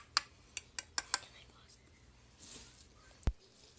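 A utensil clinks sharply against a bowl while eggs are mixed for microwave cooking: five quick taps, a soft scrape, then one heavier knock, all quiet in a hushed room.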